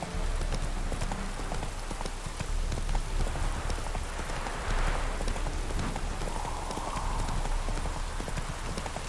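A horse gallops in the video game Witcher 3, its rapid clip-clop hoofbeats steady and close over a constant wash of rain, with a brief voice in the background.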